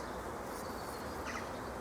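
Young honey bees on a hive frame during queen rearing, giving a steady, dense low buzz close by, with a faint brief chirp over it and no talk.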